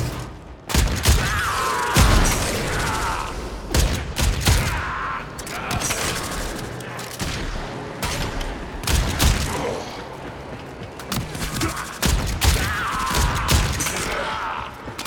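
Rapid gunfire in a Warframe solo survival mission crackles in dense, uneven bursts with booms and impacts throughout, loud and continuous, with occasional game sounds between volleys.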